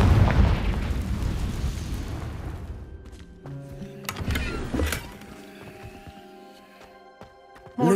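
A Confringo blasting spell in Hogwarts Legacy goes off as a loud burst of explosion noise that decays over a few seconds into a lingering magical hum and scattered clinks.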